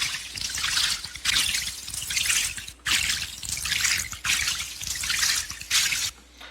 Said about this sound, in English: Without the bass, the water sounds kind of like this.